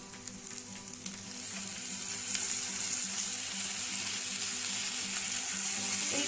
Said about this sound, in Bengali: আগে মাংসটা দিয়ে ফ্রাই করব।